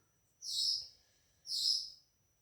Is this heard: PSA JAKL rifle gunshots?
no